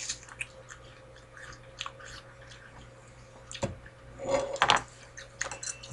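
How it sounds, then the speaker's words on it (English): Someone bites into a juicy pear and chews it, making soft, close crunching and wet chewing sounds over a quiet room. A brief, louder burst of bites comes near the end. "Let's see what this one tastes like, Andrew."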